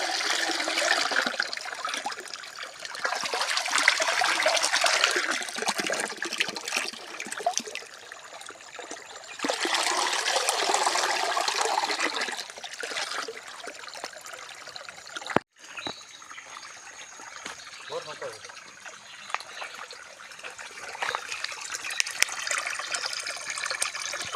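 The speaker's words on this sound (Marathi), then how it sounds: "ह्या नैसर्गिक पाण्याचा आवाज आहे का" Water from a natural stone-built spring in the Konkan pours and trickles steadily, a bright rushing flow that swells and eases in waves over about twenty-four seconds, with a sharp knock midway and no talk.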